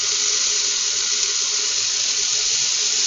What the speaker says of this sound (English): You're going to turn the water on full blast.